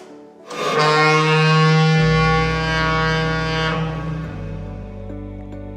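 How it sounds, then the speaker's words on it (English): The Mull of Galloway lighthouse foghorn, set off by pressing a button, blasts one loud, deep, sustained tone that swells in and holds for several seconds before shifting lower and fading with a lingering reverberation. "Having heard the foghorn, I'm going to do it once more."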